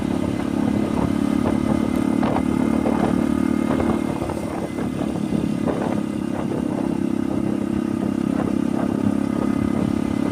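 A motorcycle riding along a road between Musi Rawas and Prabumulih while trying to overtake traffic ahead, a loud steady engine drone with wind rumble and road clatter throughout, no talking heard.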